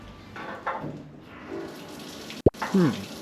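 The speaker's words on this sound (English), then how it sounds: "Must not have turned off the water." Water gushes and splashes from open kitchen sink pipes after a garbage disposal is removed, with a steady rushing flow, a sharp knock partway through, and a voice speaking over it.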